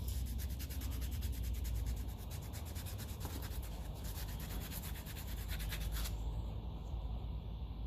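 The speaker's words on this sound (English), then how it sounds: "This is just a medium grade sandpaper, but it's been used a bit, so it's not going to be leaving scratches right now, especially in metal of this quality." Medium-grade sandpaper, already worn, rubbing over a metal steering box part for a Massey Ferguson 35 tractor, giving a steady, close scratchy swish of rapid back-and-forth strokes that stops near the end.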